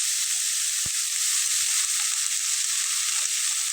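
Chopped coriander leaves frying in a generous amount of oil, a steady close hiss and sizzle with a couple of faint knocks of a spoon against the pan.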